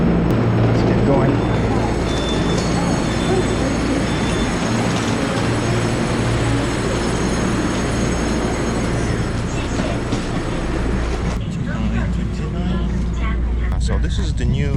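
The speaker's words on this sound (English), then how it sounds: "Train is here." A Zhejiang Express 3000 train arrives, a loud, continuous rumble and roar of rail cars close by that holds steady throughout, with a brief rattling change near the end.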